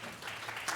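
A panel audience applauds, a brief dense wash of clapping at moderate distance that swells slightly near the end.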